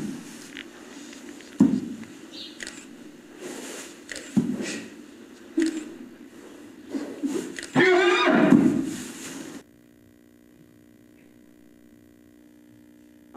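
Horses in social stall boxes neigh and whinny, one loud drawn-out whinny standing out among snorts and stamping, before the sound cuts to a steady electronic tone.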